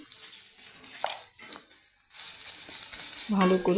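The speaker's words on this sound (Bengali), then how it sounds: "মশলার সঙ্গে ফোড়নটা ভেজে নিচ্ছি" Spices tempering in hot oil in a pan with chopped chilli, salt and turmeric for a potato cheese chop: steady close sizzle and stirring scrapes, rising louder in the second half, with brief speech over it.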